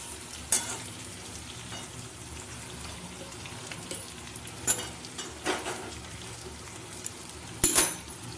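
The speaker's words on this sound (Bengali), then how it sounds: "দেখতেই পাচ্ছ সয়াবিনটা ভাজা হয়ে গেছে" Soybean chunks fry in a pan with a steady low sizzle, joined by a few sharp scraping stir sounds, with no voices.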